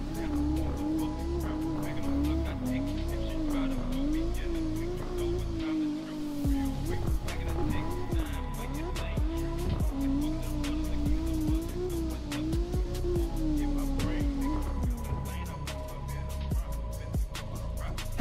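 In the CarX drifting game, a car's engine drones and revs continuously while its tires squeal through long slides. The sound is loud and sustained, with pitch swooping up and down as the car drifts.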